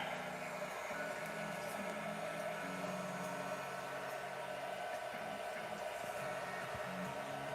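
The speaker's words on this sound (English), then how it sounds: "Zap it with the wife's hair dryer." A hair dryer blows with a constant, loud whooshing roar and a low motor hum, running nonstop.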